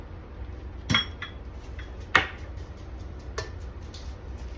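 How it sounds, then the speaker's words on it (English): Eggs cracked against a KitchenAid mixer bowl: three sharp clinking taps spaced about a second apart, followed by softer faint knocks in a quiet kitchen. "I'm going to go ahead and crack my eggs into the KitchenAid"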